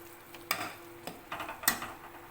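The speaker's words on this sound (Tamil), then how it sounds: "நல்லா கலந்து விட்டுருங்க, எல்லா பக்கமும் மிக்ஸ் ஆகிற மாதிரி." A spoon scrapes and knocks against a pan while stirring a garam masala mixture for country chicken gravy, a few distinct clinks and scraping strokes close up, with a faint sizzle underneath.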